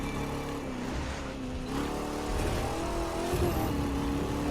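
Several police cars in The Crew 2 chase one another downtown at high speed, their engines droning and revving in a continuous roar that swells slightly toward the end.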